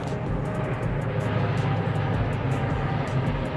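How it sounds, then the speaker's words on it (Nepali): An airplane flies close overhead near a hillside temple site in Pharping, Kathmandu, Nepal, producing a steady, loud, continuous jet roar that holds without a break. "प्लेन पनि हेर्नु कति नजिकै छ यहाँबाट"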